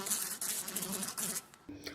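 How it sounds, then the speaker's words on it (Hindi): Close, steady buzzing of flies, a rough droning hum that wavers in loudness without any talking. "मक्खियाँ को साउंड्स को कहते हैं मक्खियाँ भिन भिनाना"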